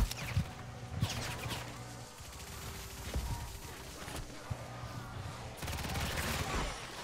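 Scattered gunshots and short bursts of fire in a video game, sharp cracks spaced irregularly over a busy background, with a player speaking at times.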